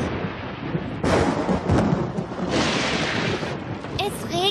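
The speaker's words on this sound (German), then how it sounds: "Es regnet." Steady rain and rumbling thunder from a storm in a children's cartoon, a continuous broad wash with a louder burst of thunder, and a voice speaking briefly near the end.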